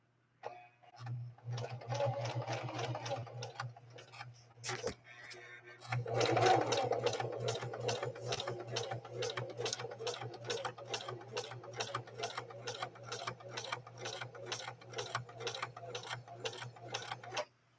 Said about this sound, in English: I intentionally am really slowing the machine down in view of the type of needle we're working with.